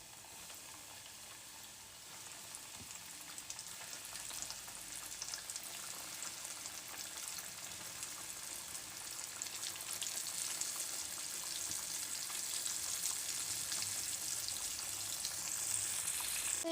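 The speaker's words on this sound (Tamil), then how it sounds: "இப்போ நம்ம டிப் பண்ணி வச்சுருந்த சிக்கன் பீசஸ்லாம் ஃப்ரை பண்ணி எடுத்துக்கலாம்" Battered chicken pieces fry in hot oil for a homemade chicken burger, giving a steady, dense sizzle and crackle that swells gradually louder and continues unbroken with no voices.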